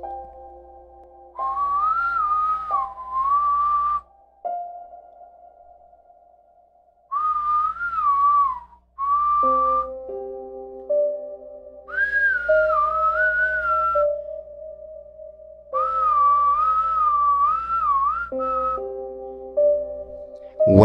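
Eerie, deliberate whistling heard outside a window at night, slow melodic phrases repeating at short intervals over sustained low tones, clear and alone with no voices.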